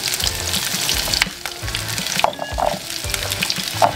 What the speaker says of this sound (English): I'm going to add the onion and garlic.